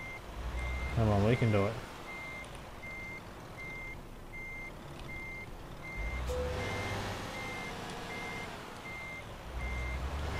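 Reversing beeps from a truck in Euro Truck Simulator 2, a steady evenly spaced high beep over a low engine rumble, with someone talking at points and a brief hiss like an air brake.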